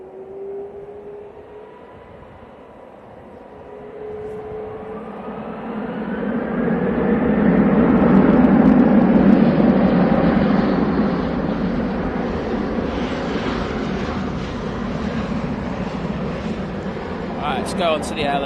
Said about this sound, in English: Got a touchdown right now.